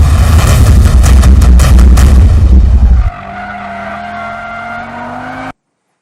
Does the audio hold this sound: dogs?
no